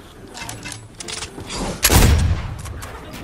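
A sniper rifle shot in a video game, a single heavy boom with a deep low thump that swells in the middle and then trails off, with smaller game noises before it.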